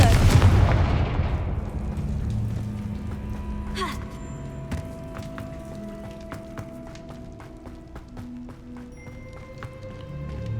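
A Confringo fire spell from Hogwarts Legacy bursts with a loud boom at the start, followed by a fading rumble, a sharp crack near the middle and scattered magical chimes and clicks.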